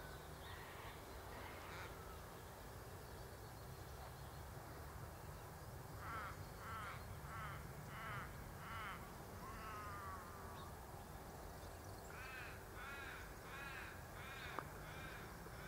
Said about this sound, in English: That's a raven you can hear, an Australian raven.